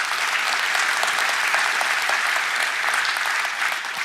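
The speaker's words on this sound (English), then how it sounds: "So please, a round of applause." A large audience at an Intel CEO's COMPUTEX keynote applauds in a steady, even roar of many hands that keeps going for several seconds.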